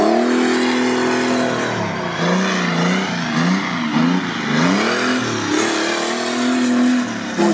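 A Suzuki Samurai off-road prototype races on a hard off-road course, its engine loud and close, revving up and down with rising and falling pitch as it accelerates through gear changes.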